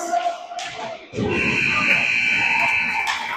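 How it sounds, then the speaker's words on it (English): A loud arena buzzer blares for about two seconds over crowd noise at a youth hockey game, following a brief stretch of talk. "And the buzzer rings."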